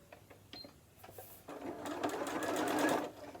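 A sewing machine runs a close satin-stitch zigzag across scrap fabric, a dense, steady whir of about two seconds following a few quiet clicks, with no talking.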